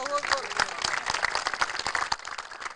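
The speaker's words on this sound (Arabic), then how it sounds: "صفقوا له صفقه حاره يا اخوان" A crowd applauds warmly for a winning contestant at a quiz segment in Abu Hamad on the Nile, a steady wash of clapping throughout with voices mixed in.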